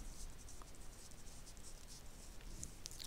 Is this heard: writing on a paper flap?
yes